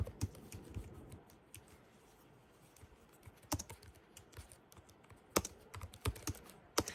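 Typing on a keyboard: quiet, sparse clusters of sharp clicks in an irregular rhythm, with a few louder keystrokes near the end and no talking.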